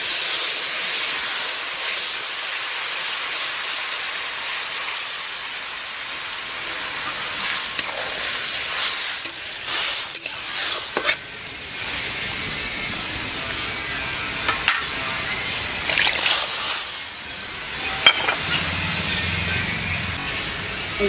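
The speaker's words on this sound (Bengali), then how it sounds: "হলুদ, এবারে জল দিয়ে দেবো।" Water poured into a hot pan of turmeric at a village cooking fire raises a sustained steamy hiss and sizzle, with bursts of crackle and spitting, loud and continuous throughout.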